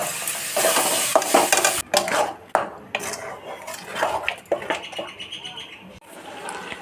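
Spice masala and fried onions sizzle in a pan while a utensil scrapes and clatters against the metal in uneven strokes, close up, with a voice talking over the cooking.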